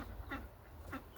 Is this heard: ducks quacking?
yes